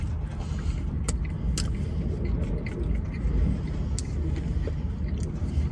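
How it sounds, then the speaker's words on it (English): Wind forces through a small gap in a window, making a continuous low rumble with occasional soft knocks, loud and close. "It's the wind going through this little gap in the window."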